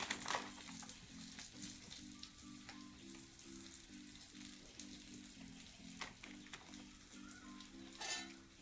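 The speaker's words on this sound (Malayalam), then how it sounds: "നന്നായിട്ട് ഇളക്കി യോജിപ്പിക്കാം. ചൂടാവാനായിട്ട് പൊടികളൊക്കെ ചൂടായി വന്നോട്ടെ." Sambar powder stirred and heated in a pan for an Onam meal, giving a steady soft sizzle with scraping stir strokes, a repeating low hum underneath and a few brighter clatters near the end.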